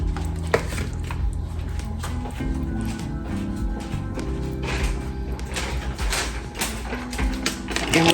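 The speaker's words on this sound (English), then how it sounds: "we're gonna go ahead and add the" Frozen sausage tumbling into a pot of greens for Southern gumbo greens, with continuous clattering, thumps and metallic pot clanks, loud and close throughout.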